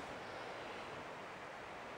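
The Chattooga River flowing through Ellicott Rock Wilderness in upstate South Carolina on a chilly autumn morning, a steady broadband rush of moving water filling the clip evenly with no pauses or voices.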